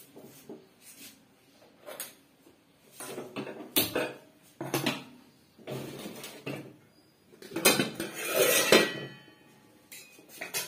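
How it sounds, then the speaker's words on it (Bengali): Pots, pans and a wok clatter and clink on a home kitchen stove in irregular bursts, with louder metallic knocks near the end and no talking. "এইবার হচ্ছে কড়াইটা চাপিয়ে দিতে হবে"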